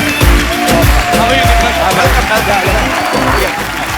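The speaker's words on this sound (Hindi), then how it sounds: "आप सबकी जोरदार तालियों के बीच बुलाना चाहूंगा मैं बहुत ही बेहतरीन एक्टर दीपक डोबरियाल और दिशिता सहगल को।" Studio audience of a Hindi comedy talk show applauds as actors Deepak Dobriyal and Dishita Sehgal are welcomed, a loud steady wash of clapping with music and voices underneath, thumping low hits throughout.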